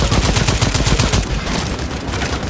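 Dense, loud gunfire in the video game Second Extinction, a fast, steady rattle of close shots that fills the whole moment and thins slightly toward the end.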